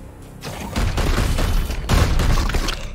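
Standard gunshots in the video game Warhammer 40,000: Chaos Gate Daemonhunters, loud booming blasts that roll together into a dense burst of fire with no voices.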